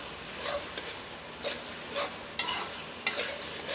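Chicken keema being fried and stirred in a pan with turmeric and red chilli, a steady close sizzle broken by several scraping stirs of a spoon at roughly even intervals.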